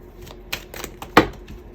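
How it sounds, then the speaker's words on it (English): A few quick, soft papery flicks and snaps of tarot cards being shuffled, close by and fairly quiet, with no voices. "you're often going to hear me shuffling my cards"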